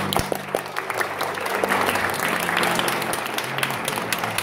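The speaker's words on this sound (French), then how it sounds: "Applaudissez le Christ." A congregation, including children, applauds warmly during Easter Mass at the Notre Dame du Liban cathedral in Paris, producing a full, sustained round of clapping with some crowd murmur.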